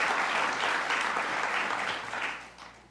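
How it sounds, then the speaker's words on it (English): Audience applause at a ceremony honoring first responders and community heroes, a steady roomful of clapping that fades toward the end. "Let's give a round of applause to Camille."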